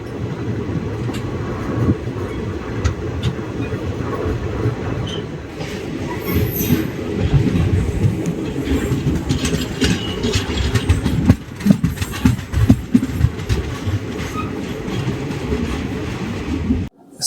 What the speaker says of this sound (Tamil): இந்த ட்ரெயின் பார்த்தீங்கன்னா ரொம்ப பழைய ட்ரெயினுங்க